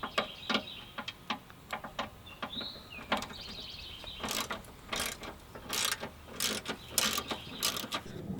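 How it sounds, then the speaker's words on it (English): Rapid bursts of ratchet clicking from a Torx ratchet loosening car fender bolts, close and fairly quiet, coming in short irregular runs with pauses between strokes. "get my Torx in there and get those two bolts that we need"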